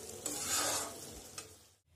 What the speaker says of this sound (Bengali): ভালো করে ভেজে নিচ্ছি মশলার সঙ্গে আলু।